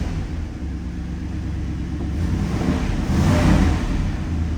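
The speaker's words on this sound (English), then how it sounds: "The exhaust doesn't sound intimidating, but this car does get up and roll." A 1966 Oldsmobile Toronado engine idles with a deep, steady rumble that swells slightly louder partway through, close and alone.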